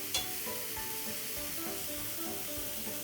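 Enoki mushrooms pan-fry to a golden sear on both sides, giving a steady, even sizzle that holds close and moderately loud throughout, with no voices.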